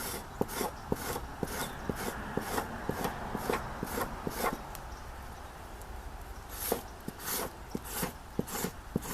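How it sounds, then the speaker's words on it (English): A tool scrapes plant material off yucca leaves in quick rhythmic strokes, a close rasping scratch repeating steadily with a brief pause midway. "you're just going to scrape the plant material right off"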